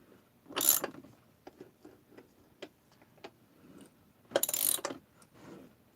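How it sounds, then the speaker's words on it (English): A ratchet turns a bolt on a Stihl 026 Pro chainsaw crankcase, giving two short bursts of rapid clicking separated by scattered faint ticks and taps, close and otherwise quiet. "I use a ratchet with this"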